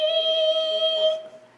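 A voice imitates a huge buzzing swarm of mosquitoes and blackflies with a steady high, thin drone that holds for about a second before fading out, close and alone.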